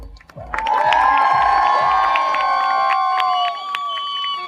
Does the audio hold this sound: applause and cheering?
yes